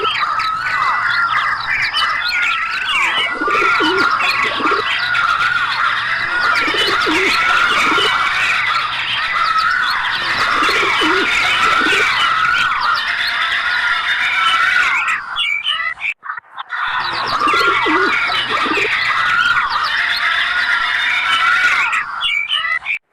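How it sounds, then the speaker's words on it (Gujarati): Electronic bird calls triggered on a mobile octapad pad: dense overlapping chirps, tweets and squawks of assorted birds in a continuous, loud layered chorus, briefly cutting out around the three-quarter mark before resuming. "આ છે જુદા જુદા પક્ષીઓના અવાજ"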